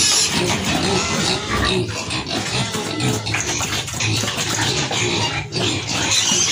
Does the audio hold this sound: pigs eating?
yes